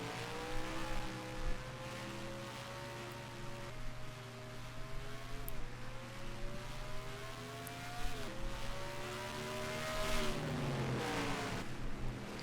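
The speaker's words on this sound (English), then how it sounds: "And Samadowskin will be the first driver out of pit road." A race car in a stock car racing video game pulls off pit road at North Wilkesboro, its engine droning steadily with rising revs through repeated gear shifts and a constant low hum, no talking over it.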